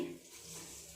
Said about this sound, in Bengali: এইভাবে নেড়ে নেড়ে দুধটাকে আরও একটু বেশ কমিয়ে নেব